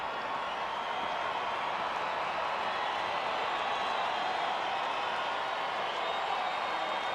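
A capacity crowd at Angel Stadium roars steadily through a full count at a 2006 Boston–Angels baseball game, a dense, continuous wash of cheering and clapping that never drops away.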